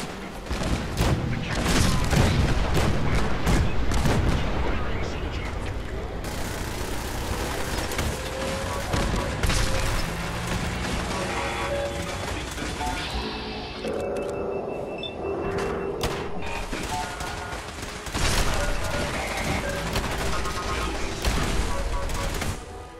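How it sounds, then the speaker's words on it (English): Cannon fire in Fallout 4, loud booms and bursts of gunfire scattered through the stretch over constant rumbling game noise, with speech heard in places. "Soldier, man the cannons. Kill them only as a last resource. Few warning shots."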